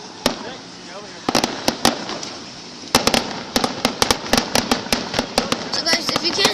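Fourth of July fireworks bursting outdoors, a string of sharp cracking bangs that come sparse at first and then quicken into a rapid, uneven volley over a low background.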